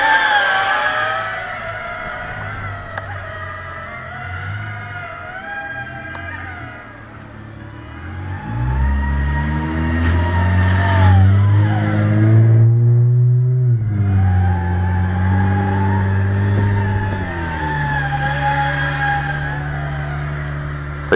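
Motors of an Eachine Racer 180 racing drone whine in flight, pitch sliding up and down through changes of speed, loud and continuous, rising to a strong throttle surge midway before easing back.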